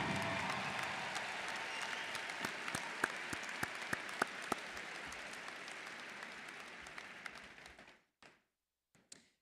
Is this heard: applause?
yes